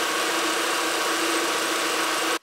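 Car engine idling steadily after an alternator replacement, a continuous even hum with a smooth drive belt, running close and unbroken until it stops abruptly at the end.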